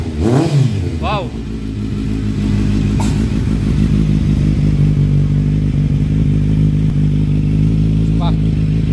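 Kawasaki Z900 with an Orion exhaust, a loud bassy engine blipped with a couple of sharp revs up and back, then settling into a steady, close rumbling idle with a few more small throttle rises.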